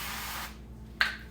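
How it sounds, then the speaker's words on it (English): A long hiss of duck fat cooking oil aerosol spray, then a pause and a second short, sharp spray burst, close up with no talking. "I got some duck fat cooking oil. I could put a little spray on it."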